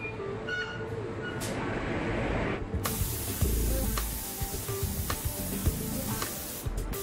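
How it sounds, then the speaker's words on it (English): A steady hissing spray of paint on a Koenigsegg supercar body panel in a factory workshop, with a continuous loud rush and a brief break before a heavier stretch. "Only when it's flawless will paint be applied."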